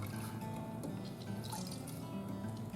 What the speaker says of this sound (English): I'm going to squeeze out a lot of that extra water.